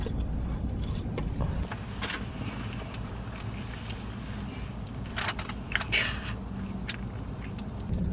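McDonald's chicken nuggets are eaten inside a Bentley Flying Spur car, with soft, close chewing, biting and rustling sounds over a quiet low cabin rumble.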